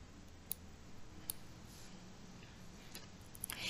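A few isolated, sharp computer mouse clicks spaced over a steady low background hum, faint and close.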